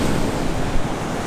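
Ocean surf at Klayar beach, churning between two large rocks, a loud steady roar of crashing waves mixed with wind buffeting the microphone, with no voices.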